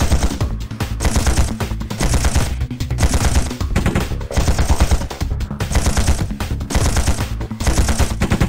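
Relentless automatic gunfire in the mecha shooter Chaos Mecha, loud and close, pulsing in steady bursts for the whole stretch with no voices over it.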